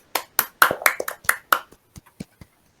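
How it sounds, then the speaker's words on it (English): Class members on a Zoom call clap, giving a sparse, uneven run of separate hand claps, some sharp and close, others fainter, tapering off after about two seconds. "let us give ourselves a clap."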